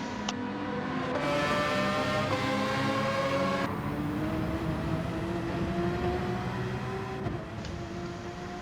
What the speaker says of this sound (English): the Finn in the Porsche just slightly outbrakes himself going into the final chicane, leaves a door open for Flash Dagger behind